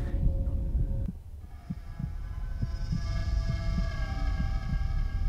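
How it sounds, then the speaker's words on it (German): Slow, steady heartbeat thumps pulse through the ambient soundscape of the video game The White Chamber, each low throb evenly spaced beneath a droning hum, with no voices. "Ich höre einen Herzschlag. Ist das im Spiel?"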